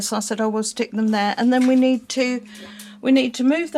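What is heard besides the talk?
No everyday noise stands out behind the speech.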